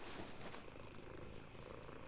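Kitten purring in the video game Once Human, a continuous low rumbling purr held close and steady throughout, with no talking.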